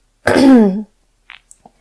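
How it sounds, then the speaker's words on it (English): A single voiced throat clearing, close and fairly loud, followed by a few faint small clicks and rustles. "I clear my throat."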